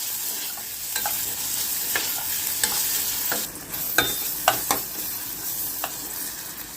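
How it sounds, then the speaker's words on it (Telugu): Onions frying in a pan for a bitter gourd mutton curry, a loud continuous sizzle with scattered scraping knocks of a spoon against the pan, a brief lull midway, and no talk. "ఆనియన్స్ ఇలాగా ఫ్రై అయిన తర్వాత"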